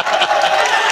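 A mushaira audience claps for the chairman in a short burst of dense, steady applause with crowd noise, loud and close.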